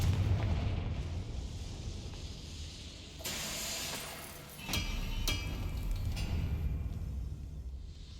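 Bursts of the Confringo fire spell in Hogwarts Legacy, a game set in the wizarding world, erupt in several loud explosive blasts with crackling tails over a steady rumbling game backdrop.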